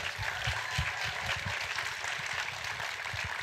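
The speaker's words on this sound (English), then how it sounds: "can we please give another round of applause to Roxane Gay and Dorothy Fortenberry" An audience at a climate storytelling event claps together, loud and sustained throughout, with a faint trace of voices beneath.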